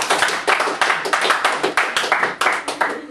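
An audience claps for a woman who has worked with children, a smaller group producing distinct, sharp, rhythmic hand claps rather than a dense roar, close and fairly loud throughout.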